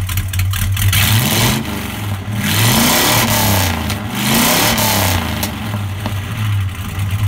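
A 1968 Dodge Charger with a manual gearbox, standard exhaust manifolds and straight-through active exhaust silencers revs loudly and close by. Its deep rumble repeatedly swells and falls with no one speaking.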